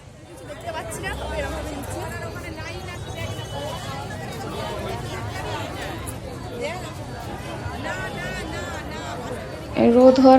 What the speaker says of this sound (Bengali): এখানে মন্দিরে এসে দেখলাম প্রচণ্ড ভিড়